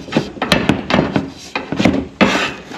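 Metal bars are pulled free from bolted mounts at a garage front, giving a series of close scraping, rubbing clunks and knocks in irregular bursts, with no talk.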